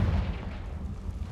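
A Confringo fire-blast spell explodes in a Harry Potter video game, giving a single deep, booming burst with a heavy low rumble that carries through the whole short moment.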